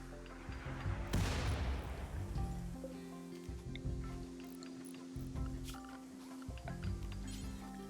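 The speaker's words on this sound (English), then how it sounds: "this mortar is breaking everything for me right now" A single heavy mortar blast in Rimworld bursts out early, followed by a layered background of game noises and hums at low level.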